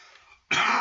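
A single sharp cough bursts out loudly and close after a stretch of faint background, short and abrupt with no talking.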